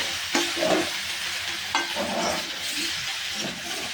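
Bottle gourd greens with ginger paste sizzle steadily in a pan after a sprinkle of water, with a few clattering stirs and scrapes over a constant hiss.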